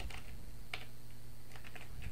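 Keys clacking on a computer keyboard while C++ code is entered, a few quick bursts of strokes separated by short pauses over a steady low hum, close and moderately loud.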